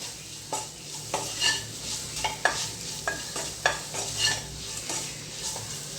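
A spoon stirs pepper powder into a frying mixture in a pan for bread egg puffs, with quiet sizzling under repeated sharp scrapes and clinks of metal on the pan every second or so.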